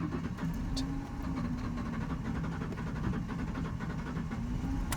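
A car with an engine misfire and a blinking engine light cranks and struggles to catch, giving a low, rough, steady rumble with faint rhythmic pulsing.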